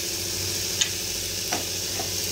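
Potatoes frying in a pan in a home kitchen, a soft steady sizzle with a few faint clinks of stirring scattered over it.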